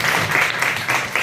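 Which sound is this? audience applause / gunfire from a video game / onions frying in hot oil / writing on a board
audience applause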